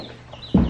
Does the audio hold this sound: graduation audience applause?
no